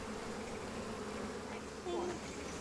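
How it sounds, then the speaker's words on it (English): Honey bees buzzing around an opened hive in a steady, continuous drone, fairly soft, with a slightly louder swell near the end and no voices. "So we just shake off the bees."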